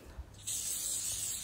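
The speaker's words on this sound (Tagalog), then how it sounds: "So, ayan, spray lang natin sa bawat" Aerosol spray adhesive hisses steadily onto quilt fabric, a close continuous burst starting after a brief soft rustle and holding to the end.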